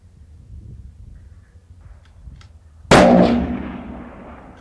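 A single long-range rifle shot fired toward a target over 1,000 yards away, a sharp loud crack with a long rolling echo trailing off across open ground, preceded by quiet outdoor ambience.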